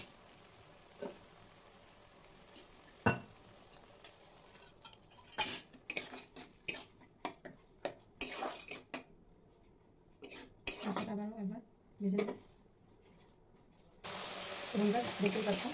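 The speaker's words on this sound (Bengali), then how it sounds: "টমেটো আদা ভালোভাবে একটু ভেজে নেবো।" Tomato and ginger fry in a pan with cumin, turmeric, pepper and chilli, as a spoon clinks and scrapes in irregular bursts and a louder sizzle swells near the end.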